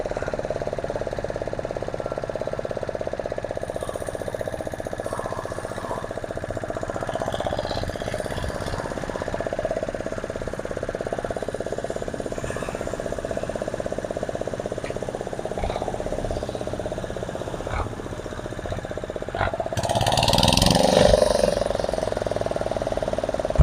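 A tractor's diesel engine chugs steadily at close range for a long stretch, with a rough rumbling texture that swells louder near the end.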